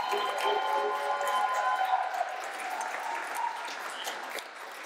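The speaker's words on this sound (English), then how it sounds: "Let's give them another round of applause." A crowd claps for Caribbean carnival groups at an announcement event, moderately loud and steady, with voices and chatter mixed through the clapping.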